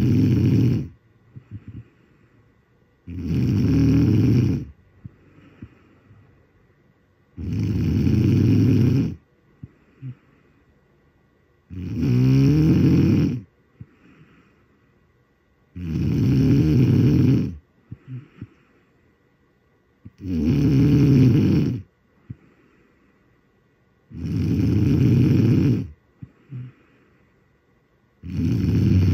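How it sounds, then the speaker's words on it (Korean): A sleeping person snores loudly and steadily, with about eight long rasping breaths at a regular rhythm and short quiet pauses between them. "얌전하게 잠을 자던 사람이 이렇게까지 코를 고니"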